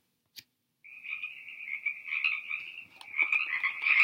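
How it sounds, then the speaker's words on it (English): A frog croaks in a continuous trilling call, a steady, fairly close rasp that pulses and grows louder over a few seconds after a brief click, with no voices. "We're going to be talking about frogs today"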